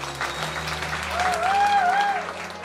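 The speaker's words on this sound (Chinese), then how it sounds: "现场的嘉宾，让我们再给新娘子一个热烈的掌声" Wedding guests applaud the bride in a steady burst of clapping that swells toward the middle, with a faint sung tone drifting over the crowd.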